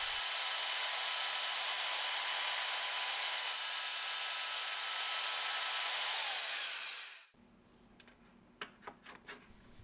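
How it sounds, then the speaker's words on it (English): A power tool saws through metal linkage pieces to make brackets, a steady loud broadband whine running for about seven seconds before cutting off, followed by quiet handling clicks and knocks. "I drilled a couple holes in them and then cut them apart"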